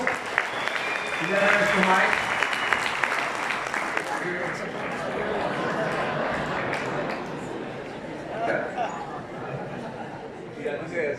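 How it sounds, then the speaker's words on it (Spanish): An audience at a Spanish-language training event applauds a man called up to the stage, the clapping moderate and uneven while voices talk over it and some light laughter rises. "Un aplauso, señor Alfonso, por favor"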